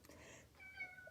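A ten-month-old Maine Coon cat gives a single short, faint meow, close by, with no talking over it.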